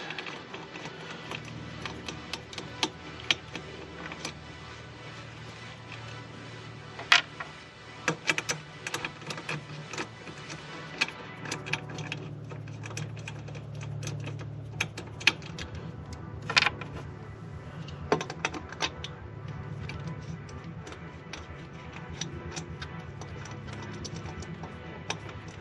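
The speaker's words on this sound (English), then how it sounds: "So I had to switch over to my 10mm deep socket on socket wrench here." A 10mm deep socket on a ratchet wrench spins out bolts while working on a 2019 Honda Civic Type R FK8, with quiet, irregular ticks and clicks sounding near and faint against a low background.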